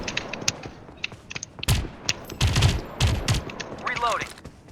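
Bursts of gunfire from a shooter video game, several loud volleys and rapid shots in clusters, with a voice talking over the action.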